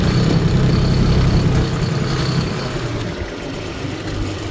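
A Mitsubishi MT221 tractor's diesel engine runs close by, a loud low rumble that eases slightly and settles into a steadier idle-like drone.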